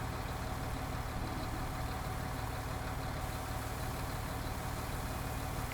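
Steady, low drone of a John Deere tractor engine running in Farming Simulator 19, constant and even throughout without change in pitch or loudness, no voices.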